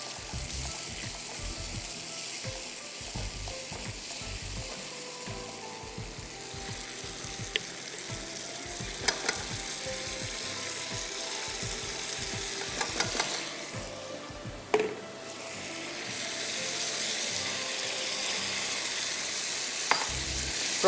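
Raw masala paste for Thai-style prawn rice frying in a pan, a steady loud sizzle that swells toward the end, with scattered clinks and scraping of stirring throughout and no talking.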